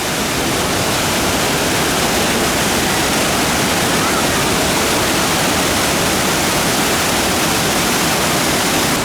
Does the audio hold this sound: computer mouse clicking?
no